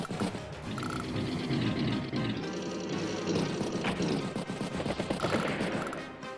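Rapid gunfire bursts hit a medium tank in Advance Wars, dense and loud over game music, continuous for several seconds with a crackling machine-gun texture.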